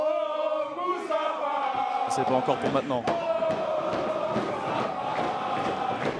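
A professional wrestling crowd in a studio shouts, chants and cheers loudly and continuously, with sharp thuds and a commentator speaking over the noise.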